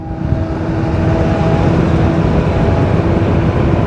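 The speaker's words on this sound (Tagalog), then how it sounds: "Oh, lakas ng tunog ang truck." Heavy truck engine droning loudly and steadily at close range on a bypass road, with a low rumbling hum and tonal whine that hold for several seconds, heard from a moving rider's perspective.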